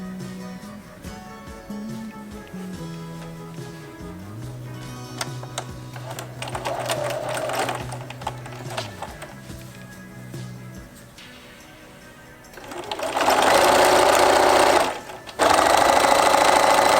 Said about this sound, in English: Now we're sewing next.